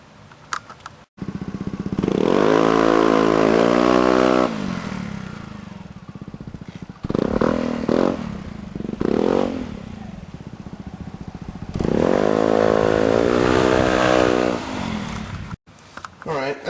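A Yamaha Zuma 125 scooter fitted with a Polini variator accelerates from a standstill in repeated runs, its engine droning up in pitch, loud and close, with someone talking between runs.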